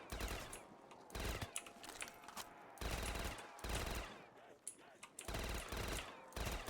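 Rifle gunfire in Black Ops 3 custom zombies, a rapid automatic string of shots broken into several bursts with short pauses between them, loud and close throughout.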